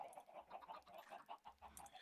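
Faint chickens clucking in the Minecraft video game, a quick run of soft, repeated clucks over about two seconds.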